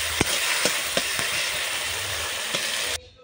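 A paste of ginger, cumin and green chili fries in hot oil in a wok with a steady, bright sizzle. A few soft clicks of stirring punctuate it before the sizzle cuts off abruptly near the end.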